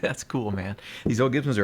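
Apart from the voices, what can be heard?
None of the usual background noises is heard.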